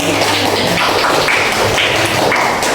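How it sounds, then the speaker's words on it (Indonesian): A classroom of students claps for a student group after their presentation, a dense patter of hand claps filling the room steadily throughout. "Kita beri aplaus dulu untuk kelompok dulu."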